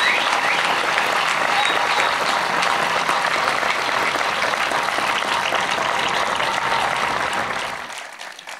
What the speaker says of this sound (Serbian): Ja vas molim zbilja da ih od srca jednim toplim aplauzom pozdravim